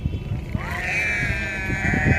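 Sheep in a flock on their way to drink at a river bleat loudly, with one long, wavering, high call standing out over busy background shuffling and animal noise nearby.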